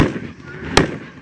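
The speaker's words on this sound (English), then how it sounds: "That's how fireworks are supposed to break." A Mad Ox Rampage in the Sky 200-gram consumer firework cake bursts with one sharp crack over a crackling, noisy outdoor background, with people talking nearby.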